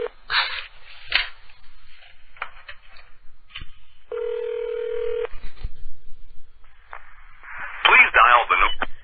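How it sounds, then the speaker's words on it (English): A short steady telephone tone sounds alone for about a second amid talk on a radio call-in show, with brief beeps and a burst of chatter nearby. "Please dial the number."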